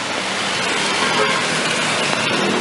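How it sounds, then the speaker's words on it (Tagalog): Heavy rain pouring steadily during the rainy season, a dense, continuous broadband wash with no breaks, fairly loud and close throughout. "Malakas na naman ang ulan"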